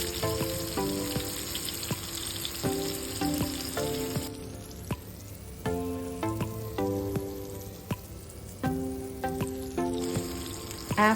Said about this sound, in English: heat some oil in a pan and then brown the patties.